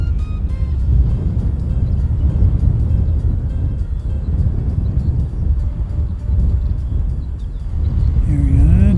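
A Jetstar airliner at Christchurch Airport gives a loud, steady low rumble of jet engines close by, sustained throughout with wind-like broadband roar and no talking.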